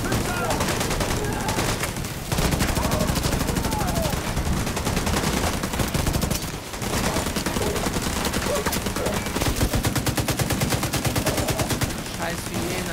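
An automated gun turret in The Division 2 fires loud, dense bursts of rapid gunshots nearly nonstop, with a brief lull midway, as voices talk beneath the gunfire.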